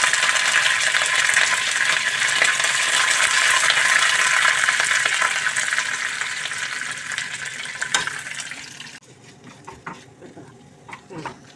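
Curry leaves frying in hot oil give a loud, steady crackling sizzle that fades and drops off near the end, followed by a few faint utensil clicks.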